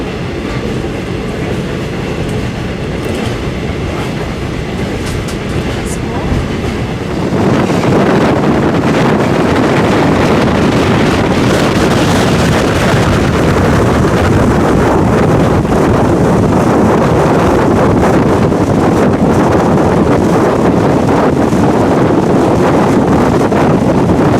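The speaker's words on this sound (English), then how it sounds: "Malaysian train now" Malaysian passenger train rolling along with its door open, a steady loud roar of wheels on rail and rushing wind that swells sharply a few seconds in and then holds, with faint clickety-clack rhythm throughout.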